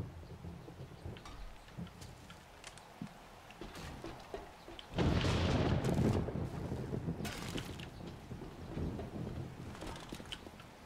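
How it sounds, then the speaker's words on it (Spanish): A thunderstorm with rain in the game 7 Days to Die: constant rain hiss, then a loud rolling thunder burst midway that slowly fades back into the downpour. "Pues va a caer tormenta, tío, qué guapo."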